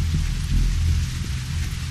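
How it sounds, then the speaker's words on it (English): Steady rain in The Walking Dead: 400 Days video game, a dense continuous hiss of falling water with low rumbling underneath, loud and unbroken throughout. "Oh, the rain. Won't let up today."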